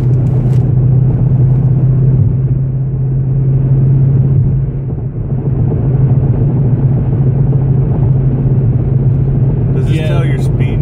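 A Ford Mustang's engine rumbles steadily and loudly from inside the car while driving, a constant low drone under brief talk from the occupants.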